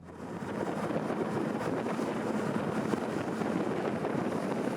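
An NY 24 motor boat runs near maximum power at 3,500 RPM and 39 knots, a steady, dense roar of engine and rushing water and wind, continuous and loud throughout with no talk.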